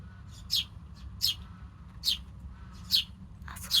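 A rescued sparrow chirping, five short, sharp high tweets spaced roughly a second apart, close and clear over a low background hum.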